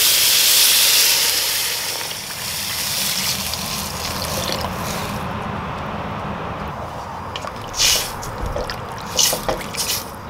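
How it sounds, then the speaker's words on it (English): Water poured into a hot pot of sautéed spices for beef tendon soup hisses and sizzles loudly at first, settling into a steady bubbling steam with a few sharper spits and pops near the end. "Let's go ahead and add water now."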